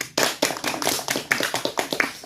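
A group of students claps together in a classroom counselling session, loud close rhythmic bursts of applause pulsing in waves with no talking.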